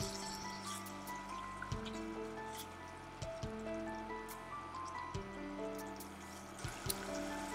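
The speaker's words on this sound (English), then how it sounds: "Now add a little more water mixed with lime juice and the zest of a lime." Water mixed with lime juice poured into a beef rendang soup, a steady trickling stream running under sustained background tones for several seconds.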